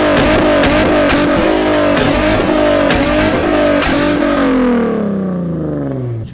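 A Nissan 370Z with an extremely loud modified exhaust revs hard in repeated bursts, raspy and close, then the engine note falls away as the revs drop; no talking.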